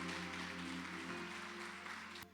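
A church conference congregation claps to welcome a woman to the stage, a quiet, distant wash of applause over low sustained instrumental tones, ending with a sharp knock.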